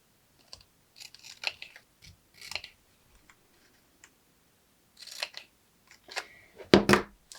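Scissors snip tabs into a small paper box for a DIY miniature advent calendar, giving quiet, scattered clicks and cuts in short bursts, with a louder cluster near the end.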